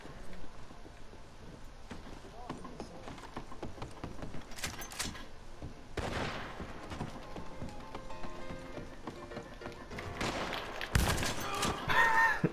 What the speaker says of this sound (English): Just ran out there and shotgunned his ass.